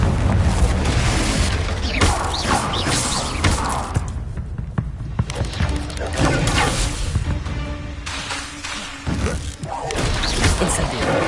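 Spell blasts from Bombarda and Confringo in Hogwarts Legacy: loud booming explosions and crashing impacts that come in repeated bursts through a busy combat mix, with a voice shouting spell names over them.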